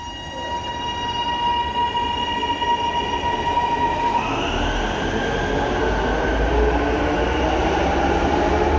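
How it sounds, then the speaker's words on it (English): A Melbourne HCMT metro train rolling through a station, its motor tones whining steadily and then stepping up in pitch as it pulls away, with constant wheel and rail rumble close by and no talk. "the HCMT sounds are the best train sounds in Victoria"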